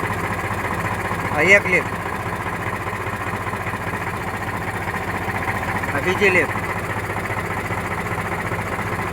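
An Eicher 368 tractor engine idles with a steady, even, throbbing rumble that runs unbroken throughout, close and moderately loud, while someone speaks over it with a couple of short louder knocks.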